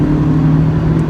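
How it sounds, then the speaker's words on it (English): A 2017 Mazda MX-5 Miata pulling in third gear, its engine a loud, steady low drone with a faint whirring, turbo-like whoosh layered over it, close and continuous. "I don't know if you guys can hear it, there's almost this whirl."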